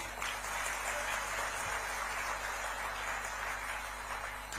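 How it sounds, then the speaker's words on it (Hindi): Audience applause fills the hall at a Bhagwant Mann event, a steady, dense wash of clapping that holds evenly throughout at moderate level with no voices over it. "एक बार इनके लिए जोरदार ताली।"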